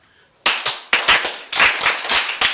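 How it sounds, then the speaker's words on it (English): School children clap their hands in irregular bursts, sharp overlapping claps that start after a short quiet moment and continue loudly in uneven clusters. "So I want you to clap for yourself."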